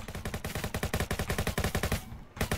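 Rapid bursts of automatic gunfire in the Roblox Jailbreak game, dozens of close, loud shots in a steady stream that breaks off briefly near the end and then resumes.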